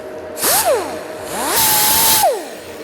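A power tool, likely a cutoff wheel, cuts tack welds on custom-fabricated zoomie exhaust headers for a blown small-block engine. It makes two loud, whining bursts with a rising and falling pitch, separated by a short pause.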